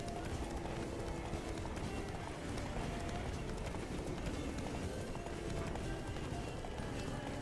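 Hooves clip-clop rapidly as a horse gallops in The Witcher 3: Blood and Wine, a steady running rhythm under busy game sound with a voice speaking over it.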